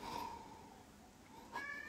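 A pet cat named Hegel meows in protest after its toy is taken away, a drawn-out complaining cry at the start followed by a shorter, higher yowl near the end, moderately close in a quiet room.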